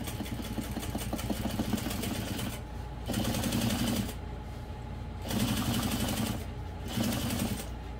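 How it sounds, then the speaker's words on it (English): A sewing machine top stitches vinyl and waterproof canvas at a long stitch length, running in steady rapid bursts of a few seconds each, separated by short pauses, close and loud. "we'll just go ahead and top stitch this using an 1/8 of an inch seam allowance and my stitch length on 5"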